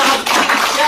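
A crowd at a public address on Adivasi tribal rights claps in a dense, continuous burst of applause lasting about a second, loud and close with no talk over it.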